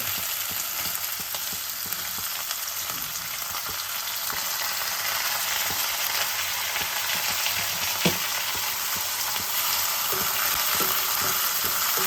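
Onions frying in oil in a pan, a steady dense crackling sizzle held for several seconds with faint occasional stirring scrapes, close by and without voices.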